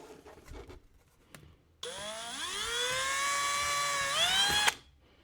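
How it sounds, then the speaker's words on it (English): A power drill whines for about three seconds, its pitch climbing as it spins up and then holding steady before cutting off, after some quiet handling noises. "I'm going to go ahead and just drill that out a little bit."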